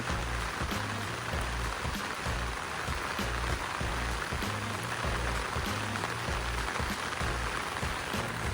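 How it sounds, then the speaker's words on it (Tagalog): Loud, heavy rain drums continuously close by, with a dense hiss and low pattering thuds that never let up. "Lumalakas yung ulan"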